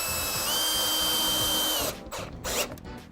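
A power drill drives SPAX unit drive Phillips-square screws into wood without pre-drilling, giving a loud, close, steady whine that stops abruptly, followed by a few brief clicks and handling noises.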